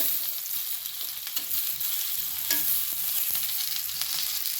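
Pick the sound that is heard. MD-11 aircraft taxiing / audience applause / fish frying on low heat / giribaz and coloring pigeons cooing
fish frying on low heat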